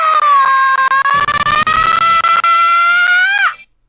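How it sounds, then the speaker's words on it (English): A sustained, loud, high-pitched scream with a slowly rising pitch holds for about three and a half seconds, then cuts off abruptly. A noisy rumble sits beneath it at the midpoint, and no one talks. "lots of screaming externally"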